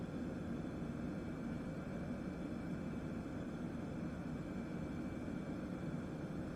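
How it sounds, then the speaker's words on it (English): A steady, broad engine drone from an aircraft in Microsoft Flight Simulator, a continuous even roar with no breaks or changes, with no talking. "I'm really happy with the sound effects, with the engine sound and most of the things."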